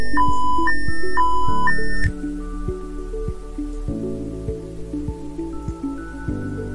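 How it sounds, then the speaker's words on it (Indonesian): SCADA software alarm beeps, signalling a full tank, repeat in a fast two-tone pattern for about two seconds, then fade into softer, lower tones. "maka alarm akan berbunyi yang menandakan bahwa tangki 1 telah terisi penuh"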